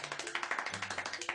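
Clapping in a video game, a quick, even run of about fifteen light claps, soft and close, with game music humming faintly beneath.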